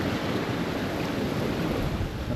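Steady broadband wash of open-ocean swell around a sailing boat running dead downwind in the equatorial Atlantic, continuous and fairly loud with wind rush over the microphone.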